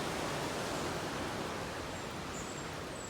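Water rushing over a weir near Inverness, a constant broadband roar heard steadily throughout at moderate distance with no other sounds standing out.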